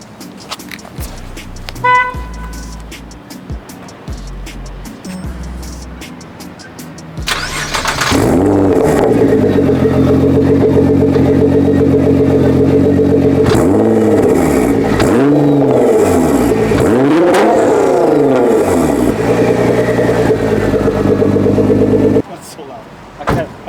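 A tuned car, one of a GT-R, BRZ or Honda Fit, revs hard and loud for about fifteen seconds with rising and falling swells. Quieter engine noise and talk come before it.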